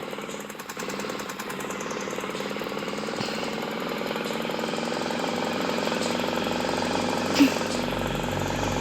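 A motorbike pushes through floodwater on a delivery ride. Its engine chugs steadily and rapidly throughout, close and continuous, with a brief sharp knock near the end.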